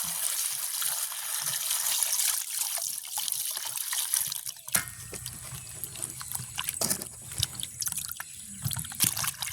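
Vegetables being washed by hand in water for a village-style semolina puttu meal: continuous sloshing, trickling and dripping water with small clatters, close and steady, without speech.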